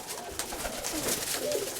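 A pigeon coos softly at a breeding loft, with a low, murmuring call rising through a short stretch of steady background noise.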